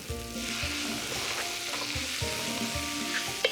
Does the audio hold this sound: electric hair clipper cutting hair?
no